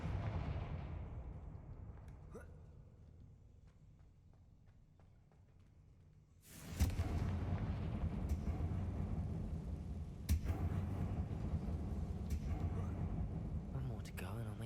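Confringo spell blasts in a Harry Potter video game land as a loud burst near 6.7 s and another sharp hit near 10.3 s, over a busy, rumbling game soundscape.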